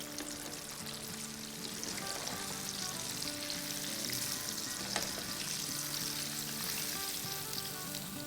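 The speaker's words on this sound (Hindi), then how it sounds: "कुछ पीसेस डालेंगे और इसको रियल क्विक फ्राई करेंगे" Vegetable pieces for a KFC-style veg recipe deep-fry in hot oil, giving a steady, dense sizzle and crackle with light stirring throughout.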